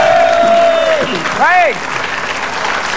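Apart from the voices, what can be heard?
studio audience applause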